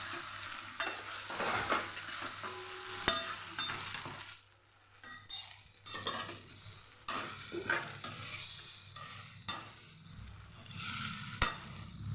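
Asafoetida, curry leaves and sesame seeds tempered in hot oil for Kathiyawadi methi dhokla, crackling and sizzling close by, with repeated spoon stirs and scrapes over it.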